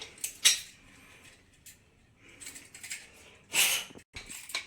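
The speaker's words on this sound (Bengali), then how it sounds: "আমি ঢাকনাটা দিয়ে দিচ্ছি" A cooking pot has its lid set on it in a home kitchen while a curry is made, giving a couple of sharp metallic clinks and clatters against quieter kitchen handling sounds, with no talking.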